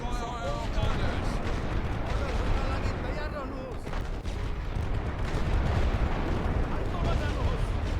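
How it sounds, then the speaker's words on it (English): An artillery barrage in the video game The Great War: Western Front, a dense, continuous roar of booms and gunfire rolling on without a break, with a voice talking over it. "Suppress at that location. Barrage."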